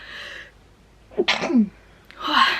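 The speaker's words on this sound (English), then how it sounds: "I have to sneeze." A single close, sharp sneeze bursts out after a brief intake of breath, followed by a short breathy exhale.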